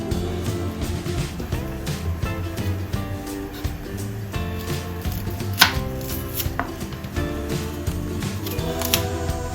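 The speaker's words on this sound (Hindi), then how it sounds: "2 प्याज हैं, इसको चॉप करेंगे" Two onions are chopped on a board for egg biryani, with rapid close knife strikes falling in a busy, fairly even rhythm that stays loud and continuous, and no voices.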